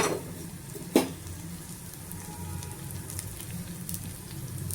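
Onions fry with green chillies, salt, turmeric and jaggery in a hot pan, a steady close sizzle with a sharp clatter of ingredients dropping in near the start, then continuous crackling.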